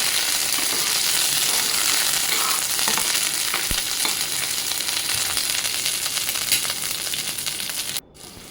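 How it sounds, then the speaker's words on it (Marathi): Garlic and curry leaves sizzle and crackle in hot oil for a tempering in a pan, a loud close bright frying hiss with scattered pops and a stirring clatter, cutting off abruptly at the end. "आता आपण इथे फोडणी करूया. लसूण आणि कढीपत्ता"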